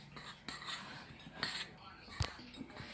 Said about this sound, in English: Mix it in real good like this.